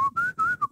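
Clear whistling that glides steadily up and down in three or four sustained phrases, loud and close, with no talk; it sounds like a human whistle imitating a bear's whistle.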